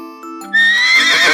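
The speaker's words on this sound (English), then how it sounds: "It is a horse." A horse neighs close and loud, a bright shrill whinny that rises sharply after a short tonal lead-in and quivers with a shaky vibrato to the end.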